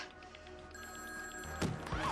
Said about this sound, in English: Ill timing for a phone call.